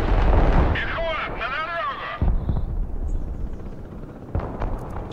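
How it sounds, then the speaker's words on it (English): Artillery fire and explosions in the modern warfare strategy game Broken Arrow, heavy booms and rumbling blasts booming under loud excited talk, with a warbling whine overhead and further impacts later. "I'm gonna push further through their artillery. Artillery!"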